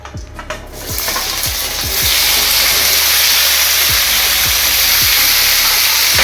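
Pumpkin and potato pieces dropped into hot oil with cumin and a dried chili, the soft sizzle swelling into a loud, steady frying hiss that fills the rest of the clip, with faint low knocks underneath.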